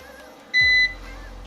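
A single short electronic beep from a Numeric Digital 600 EX-V UPS during a power outage, bright and close, lasting about a third of a second over a faint background hum.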